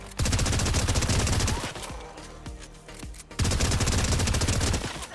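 Rapid-fire SMG gunfire in a video game, loud dense bursts of automatic shots lasting over a second each, broken by a pause with scattered single reports before a second long burst.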